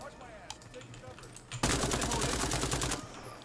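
Automatic gunfire from a single-player Tarkov-style shooter game, a sudden dense burst of rapid shots lasting about a second and a half after a quieter stretch of faint game noise, loud and close.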